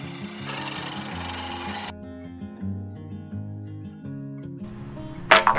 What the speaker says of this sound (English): I decided to cut some big boards into smaller boards using my grandfather's not very awesome table saw